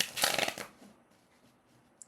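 Tarot cards are riffled and shuffled in a quick, papery burst of flicking for about half a second, close and fairly loud, then trail off into near quiet with a small tap at the end.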